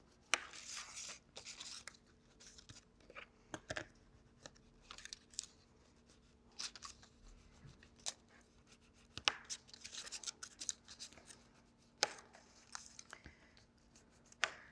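Paper is creased with a bone folder or scalpel end for a Rolodex-style mini album, giving faint, close, intermittent scraping and crinkling strokes with soft taps scattered in short bursts against a quiet background.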